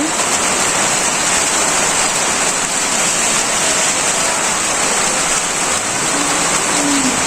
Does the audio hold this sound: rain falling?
yes